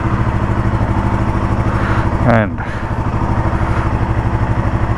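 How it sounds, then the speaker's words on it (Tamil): A Royal Enfield Himalayan 450 motorcycle starts with a short starter whir and catch, then settles into a steady, loud, close single-cylinder idle with an even pulsing beat; a single spoken word is heard over it. "so let's start the engine"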